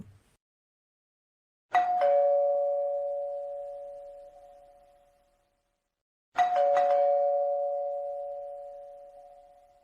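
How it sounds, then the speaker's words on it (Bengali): A cartoon doorbell rings twice, about four and a half seconds apart; each ding-dong is loud and clear and its tone rings out slowly in an otherwise silent room. "কে এতবার কলিং বেল বাজাচ্ছে?"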